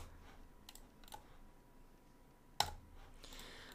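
Faint clicks of computer keyboard keys are struck in a few scattered taps with one sharper clack, over a quiet room background, and no one talks.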